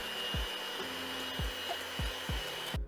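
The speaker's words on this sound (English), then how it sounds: "we're gonna use the hand mixer to make this nice and frothy" Hand mixer whipping egg yolks with fresh lemon juice into a froth, a steady close motor whir with recurring low knocks as the beaters hit the bowl, cutting off abruptly at the end.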